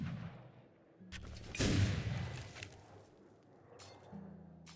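A musket in Flintlock The Siege of Dawn fires a single sharp, loud shot that rolls into a decaying boom, with quieter clicks and low ambience before and after.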